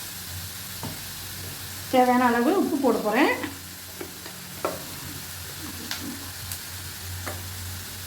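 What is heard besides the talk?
pineapple pieces frying and being stirred in a pan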